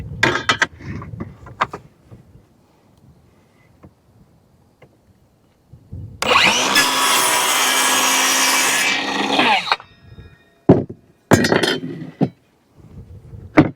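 A wooden door on a chicken coop being planed down, a loud steady shaving stroke of about three seconds in the middle, with sharp knocks and clinks of wood and tools before and after.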